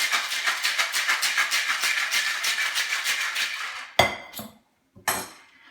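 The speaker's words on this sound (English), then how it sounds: "Some ice. Shake it up." A cocktail shaker is shaken hard with ice in a fast, steady rattling rhythm for about four seconds, then it stops and a few loud clinks follow.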